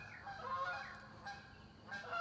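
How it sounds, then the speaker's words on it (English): Geese honking loudly as they fly over a house beside a lake: a few overlapping nasal honks, fairly near and distinct, carried over a faint outdoor background. "We got some geese, and they're being very loud."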